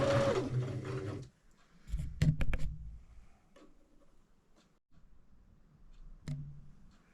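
A domestic sewing machine top stitches a fleece jacket, running in a loud close burst at first, then in short quieter stitch runs and clicks separated by near silence.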